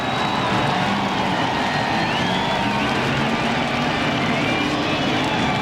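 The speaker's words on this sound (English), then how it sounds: "And listen to the crowd. Just listen to the crowd." A large crowd roars at a 1997 NASCAR Winston Cup race at Dover Downs, a continuous loud wash of cheering blended with whining race car engines passing, under an announcer's talk.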